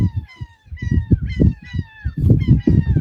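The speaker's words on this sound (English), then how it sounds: "Y'all hear the seagulls?" Seagulls call on a boat outing in the Florida Keys, a loud near flock of overlapping harsh squawks and honks in quick bursts, with no talk.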